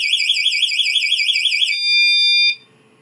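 A wireless motorcycle anti-theft alarm sounds from its remote as a loud, close electronic wail that warbles rapidly, then holds a steady tone before cutting off abruptly after about two and a half seconds.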